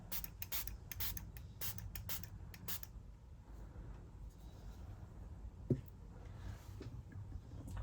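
A handheld spray bottle spritzes during a painting session in several quick, sharp bursts over the first few seconds, followed by quieter scraping and handling noises.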